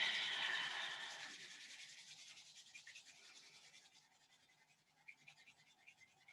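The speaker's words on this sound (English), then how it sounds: "And then rub the palms together again." Palms of the hands rubbed together during a yoga session, a soft dry swishing friction that starts fairly strong and gradually fades into faint, intermittent brushing strokes.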